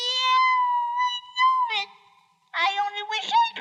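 A voice imitates a cat meowing in a vintage children's bedtime-story recording, drawn-out tonal meows clear and close, with a short pause between calls.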